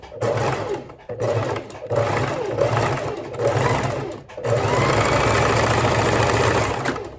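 A domestic sewing machine stitching a seam during a sewing lesson, loud and close, its rapid needle rhythm running in three short bursts separated by brief pauses, then one longer steady run.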